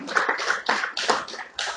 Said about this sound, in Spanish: Usted le puede dar un aplauso a Dios por eso.